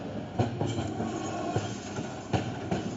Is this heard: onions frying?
no